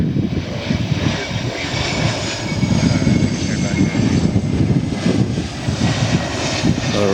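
A fixed-wing aircraft landing at Lihue airport, a steady engine roar that swells slightly as it passes, heard from nearby without pause throughout.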